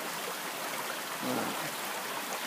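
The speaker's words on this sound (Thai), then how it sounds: "นี่น้ำตกเจ็ดชั้นนะครับ" Steady rushing water of a seven-tier waterfall at a resort fills the air, a continuous broadband wash with no distinct events standing out.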